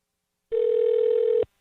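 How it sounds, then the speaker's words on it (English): A single steady ringback tone, just under a second long, sounds over a telephone line while calling a radio show guest; clear and isolated, with silence on either side. "let me see if I can get Mr. Philip Van Scotter on the phone"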